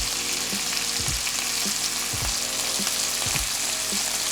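Chicken pieces frying in a pan for creamy garlic chicken, a loud, continuous sizzle with a few periodic soft thumps and knocks, no talking.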